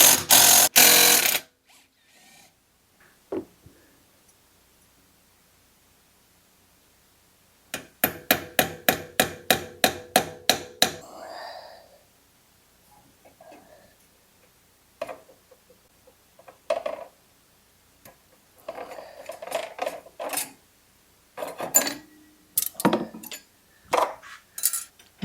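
Allen wrenches and metal tools handled on a Toro mower with a Kawasaki engine: a loud opening burst, then a rapid run of ratcheting clicks, followed by scattered metallic clinks, taps and rattles close by.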